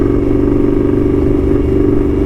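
An Indian Scout 'Street Hooligan' motorcycle built by Krazy Horse holds a loud, steady engine drone close by, a continuous throbbing rumble with no revving changes and no talk over it.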